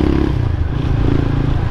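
A Honda Supra motorcycle riding along a road gives a loud, steady low engine drone, heard close up alongside rattling clatter and wind noise.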